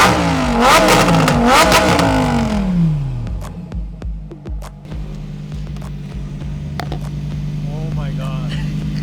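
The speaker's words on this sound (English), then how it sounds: "Can you rev the car for us?" A Lamborghini Huracan Performante engine rises in a loud rev and then settles into a low steady idle rumble, with a few sharp clicks and faint voices nearby.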